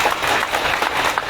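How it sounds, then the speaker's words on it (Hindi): An audience claps at a speech at a mobile medical unit inauguration, producing a brief, dense patter of applause at moderate distance. "हम लोग ने ताली मार दिया"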